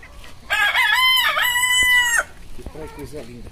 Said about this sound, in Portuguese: Quatro galinhas e um galo.